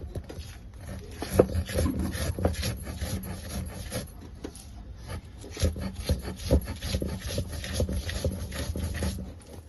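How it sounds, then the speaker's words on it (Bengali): Mustard seeds, salt and garlic ground together on a stone slab, a continuous rough scraping and rubbing with repeated back-and-forth strokes, close and moderately loud, with no voices. "এবার আমি এগুলো সব একসাথে বেটে নিচ্ছি"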